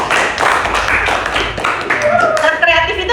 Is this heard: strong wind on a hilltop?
no